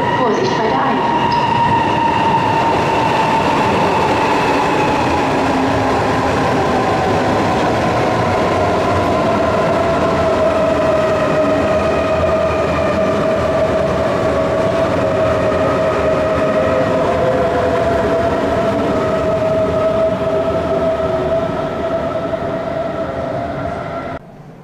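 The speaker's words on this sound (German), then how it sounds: "Gleis 2, Einfahrt S6 nach Tutzing über München Hauptbahnhof." A DB S-Bahn S6 train rolls into a Munich platform with a steady, loud rumble that continues throughout, a drawn-out brake or wheel squeal gliding gradually lower in pitch, and the sound easing off only at the very end.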